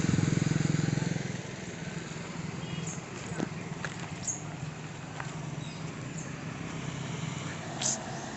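A motorbike rides along a road on the way to Kolleru Lake, with a loud engine drone at the start settling into a steady lower hum and rushing wind, plus a few sharp knocks.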